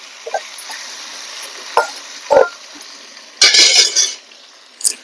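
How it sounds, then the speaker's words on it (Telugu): Sweet potato curry is stirred in a pan with a spoon, giving a few scraping clinks and a louder burst of scraping near the end over a steady low sizzle. "కలుపుకుంటాం"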